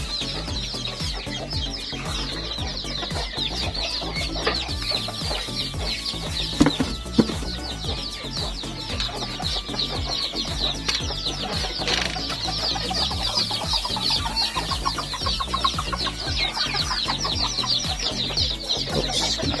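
Hens cluck steadily around a small backyard farm, nearby and overlapping, with occasional louder squawks and a continuous busy flock murmur.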